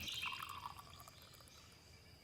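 Water pours and splashes softly at close range for a couple of seconds, then trails off into quiet trickling.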